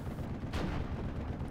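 A burst of gunfire rings out in the Steel Division World War II strategy game, with one sharp report at mid-clip over a dense, rumbling battle backdrop. No one speaks over it.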